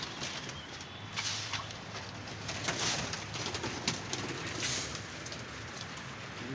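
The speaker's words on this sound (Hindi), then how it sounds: "लो जी ये 33 कबूतर दाना खा रहे हैं" A flock of 33 pigeons coos softly and continuously while pecking grain, with faint rustling and a wing flutter or two, heard at a moderate distance with no talk.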